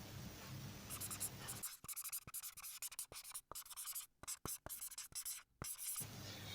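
Pen scratching across paper while math notes are written out for a group theory problem, steady close strokes broken by short pauses and lifts, with faint background hiss.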